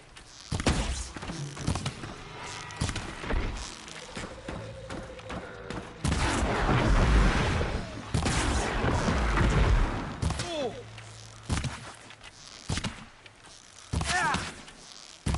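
Scattered gunfire and heavy thuds from a Horizon Zero Dawn battle, bursts of shots and booms spread across the stretch with loud impacts around the middle, mixed with game ambience and occasional voice sounds.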